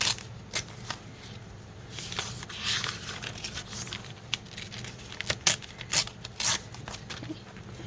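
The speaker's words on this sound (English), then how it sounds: "Tear that out." A dried page is torn from an old book, giving a few rustling, crackling paper rips and crinkles up close, scattered among brief handling noises over a low steady hum, with no voices.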